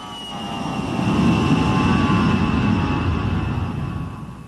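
A low-flying A-10 attack jet passes with a broad, steady roar that swells over the first second and holds, then eases slightly, a continuous close-range jet rumble with no speech.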